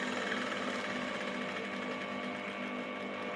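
Sewing machine stitching a curved seam on a four-piece skirt, a steady rapid mechanical whir that runs continuously and close up with no pauses or talk.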